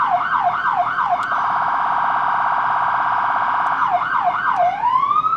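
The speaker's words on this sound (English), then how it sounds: "Push the siren. this actual siren button." Ohio State Highway Patrol police car siren, loud and close, wailing up and down, switching to a rapid steady yelp in the middle, then returning to the wail and winding down at the end.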